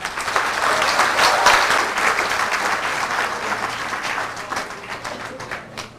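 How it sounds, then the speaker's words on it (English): At a medical school graduation ceremony, the audience bursts into vigorous, continuous applause for the new doctors. Dense clapping with sharp individual claps fills about six seconds before thinning slightly. "give a resounding applause to all our new doctors."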